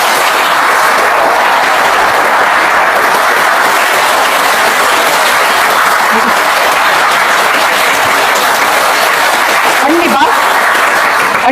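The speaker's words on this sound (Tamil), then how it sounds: "ஒரு பெரிய கைத்தட்டல் தட்டிக்கோங்க" An audience at a talk on women's safety breaks into a long, steady burst of clapping, loud and continuous, with brief voices rising out of the crowd noise.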